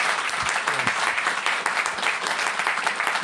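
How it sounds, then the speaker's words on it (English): An audience at a live podcast recording applauds, a thick, continuous wash of clapping that stays loud throughout with no talk over it. "Can everybody give Jabari a round of applause,"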